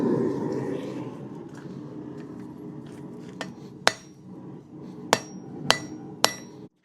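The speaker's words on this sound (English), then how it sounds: "Here I'm using the edge of the anvil to help define where the header will start." A blacksmith forges a nail on an anvil with a nail header, heating the steel and shaping it with a hammer. A low rumble comes first, then several sharp, ringing hammer strikes land at uneven intervals, loud and close.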